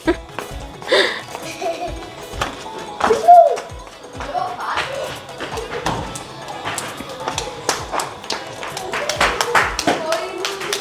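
Children clap at a family Vishu celebration in the evening, a scattered, uneven patter of hand claps mixed with thumps, laughter and lively chatter from several voices nearby.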